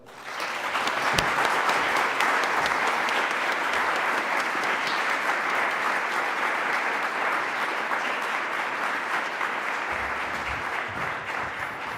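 Loud, sustained applause from an audience at the opening of a space studies program, dense clapping rising quickly and holding steady, with a few sharper claps standing out near the end.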